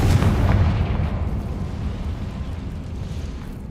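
A Confringo blasting spell from Hogwarts Legacy goes off as a loud, deep explosive boom near the start, then rumbles and decays over a few seconds, with no talking.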